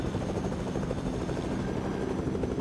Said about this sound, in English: I thought I heard another helicopter.